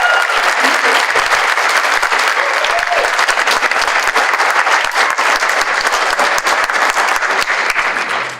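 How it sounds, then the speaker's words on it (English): Sustained applause from a graduation ceremony audience honoring graduates, dense steady clapping from a crowd filling the room at even loudness throughout, with no speech over it. "let's have a round of applause for these graduates."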